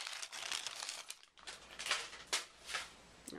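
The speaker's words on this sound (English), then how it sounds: "I'm going to unwrap it. Yeah, I know it's really loud when you unwrap it." Crinkly plastic wrapping being peeled off a handmade Moroccan clay shampoo bar, heard as close, loud crackling rustles that come in several bursts, with a brief lull partway through.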